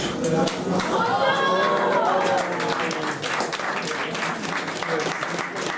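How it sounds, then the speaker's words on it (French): A crowd applauds loudly and continuously, clapping mixed with cheers and chatter, filling the whole moment. "Vous pouvez applaudir Vénère"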